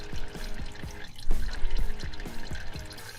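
Rear differential oil on a Honda Element draining out of the plug hole into a container, a continuous gurgling pour with rhythmic glugging pulses, close and fairly loud, no talking.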